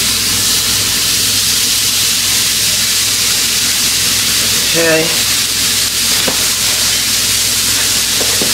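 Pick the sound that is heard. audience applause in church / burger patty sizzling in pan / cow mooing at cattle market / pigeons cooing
burger patty sizzling in pan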